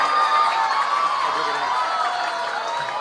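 A crowd cheers and applauds at an evening opening ceremony for new attractions at Ancol, a steady, dense wash of voices and clapping that holds throughout at fairly close range.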